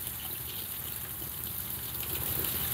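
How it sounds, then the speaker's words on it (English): A waterfall beside a deck gives a steady, soft, continuous splashing rush with no breaks or talk. "listen to the waterfall."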